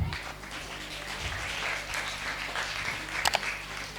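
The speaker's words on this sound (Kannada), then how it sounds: "ಪ್ಲೀಸ್ ಒಂದು ಕ್ಲ್ಯಾಪ್ ಹಾಕ್ತೀರಾ?" Audience applause at a free summer camp event, a moderate wash of clapping that runs steadily through the moment, with a brief louder burst near the end.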